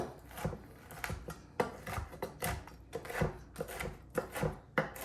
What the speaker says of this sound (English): Just want to give this a little bit more chopping